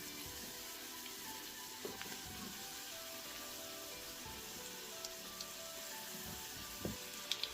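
Bread and zucchini cutlets frying in a pan, a faint steady sizzle with occasional small pops and crackles, no talking.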